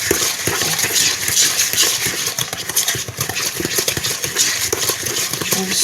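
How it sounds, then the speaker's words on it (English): Cookie dough of chocolate chips, walnuts and dates is stirred by hand with a spoon, a close, steady run of rapid scraping and clicking against the bowl with no talk. "And just stir it all up real good and get the everything distributed evenly into the liquid mixture."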